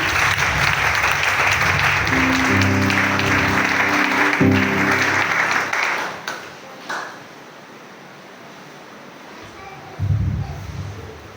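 A church congregation breaks into sustained applause with ringing musical tones underneath, then the clapping fades to near quiet before a short fresh burst near the end.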